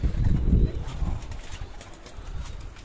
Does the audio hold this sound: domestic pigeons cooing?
yes